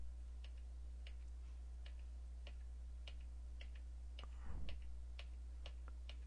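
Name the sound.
pressing arrow keys on a computer keyboard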